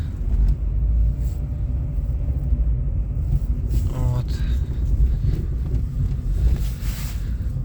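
A car drives through the city streets of Dnipro on a cold January day, giving a steady, close low rumble mixed with wind buffeting and road noise throughout.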